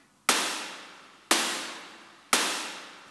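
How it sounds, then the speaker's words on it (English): Hypersynth Xenophone synthesizer playing a snare sound: three loud, sharp noisy hits spaced about a second apart, each with a bright broadband crack and a long decaying tail, with no voices. "And then I also have a xenophone, a hypersynth xenophone"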